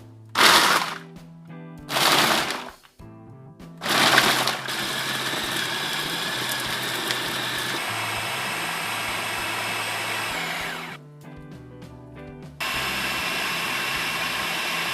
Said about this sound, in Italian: e partiamo col trituratore. Iniziamo prima con la funzione pulse